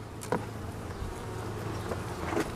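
Honeybees hum steadily at the hive, a close, quiet buzzing drone with a few individual bees passing near.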